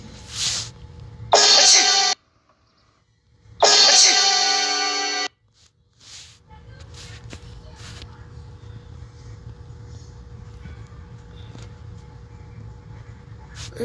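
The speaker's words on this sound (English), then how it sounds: "Cough." Two loud, harsh coughing bursts come close together near the start, each lasting a second or two, then a quiet stretch with faint background noise.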